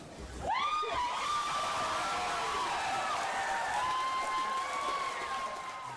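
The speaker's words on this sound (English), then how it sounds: "Much of the crowd cheered when Guilford County commissioners threw out a mining company's request to rezone land for a granite quarry." Crowd at a Guilford County commissioners' public hearing cheering and clapping after a quarry rezoning vote, with loud whoops and sustained cheers rising abruptly and filling the room steadily.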